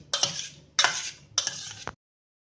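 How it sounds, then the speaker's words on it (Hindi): A spoon stirs two spoonfuls of yogurt into mashed ripe mango in a bowl, three close scraping, clinking strokes in quick succession, then silence. "अब इसमें हम 2 चम्मच दही डाल देंगे और इसको अच्छी तरह से मिक्स करेंगे"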